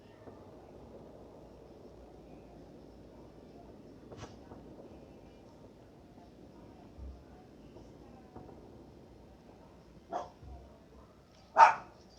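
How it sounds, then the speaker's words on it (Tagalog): A dog barks a few times, short sharp yaps spaced apart and growing louder toward the end, over a faint quiet background. "Maingay yung aso ko."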